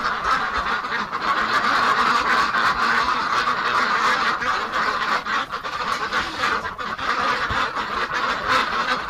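A flock of ducks kept in a cold winter shelter quack and honk continuously, many overlapping calls forming a dense, raucous clamor close at hand with no clear pauses.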